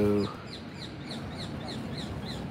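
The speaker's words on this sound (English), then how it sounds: "There are some birds at the park." Birds in a park calling outdoors, a rhythmic series of repeated chirping calls at a moderate distance over steady background noise, following a brief voice at the very start.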